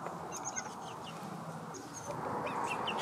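Gamefowl chickens raised free-range cluck and call at a moderate distance, with brief bird chirps scattered over a steady outdoor background.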